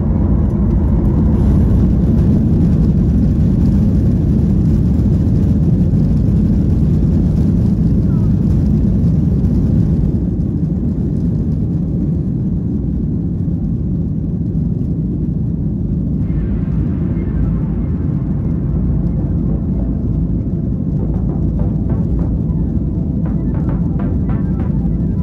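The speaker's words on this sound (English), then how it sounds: "I'd forgotten just how much sound the engines make back here." Loud, constant jet engine roar and rumble fills the rear of an aircraft cabin, a steady broadband drone with some higher whine that thins out partway through.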